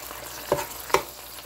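Steak browning in a hot pan gives a faint, steady sizzle, broken by two brief louder crackles in quick succession.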